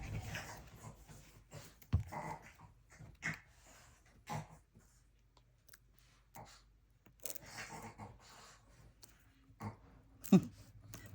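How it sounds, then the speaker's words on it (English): A small dog and a big dog play together at home, with bursts of panting, snuffling and low growls broken by sharp thumps and scuffles, fairly close and irregular, with no talk. "My small dog playing with the big dog."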